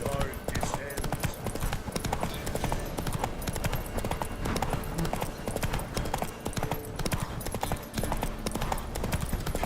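Roach the horse gallops in The Witcher 3, with rapid rhythmic hoofbeats pounding close and continuous under in-game voices and combat sounds.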